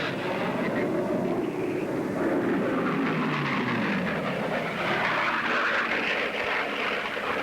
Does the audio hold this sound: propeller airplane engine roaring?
yes